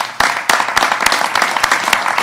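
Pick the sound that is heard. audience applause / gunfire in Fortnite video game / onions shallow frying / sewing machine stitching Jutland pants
audience applause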